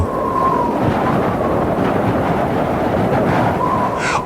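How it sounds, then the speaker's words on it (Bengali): Steady roaring wind and rain noise fills the whole stretch, a dense stormy rumble with no clear thunderclap standing out. "চারদিকে হঠাৎ প্রচন্ড ঝড় শুরু হয়ে গেল।"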